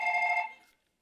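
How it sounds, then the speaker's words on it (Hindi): A single short electronic phone ring sounds loudly, then fades quickly into silence. "ओ ब्रो मेरा फोन आए"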